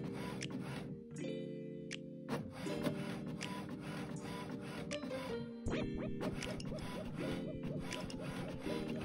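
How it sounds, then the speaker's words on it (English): An inkjet-style home printer runs off custom-printed tissue paper, its feed motor whirring and the print head shuttling back and forth in steady repeated passes, close and fairly loud, with no talk. "So I literally just put it in the printer and now I'm gonna print it."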